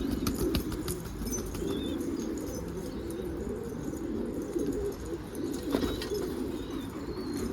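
A racing pigeon bursts into flight with wing flaps in an outdoor garden, amid steady background noise, faint chirps and scattered clicks, with no talking.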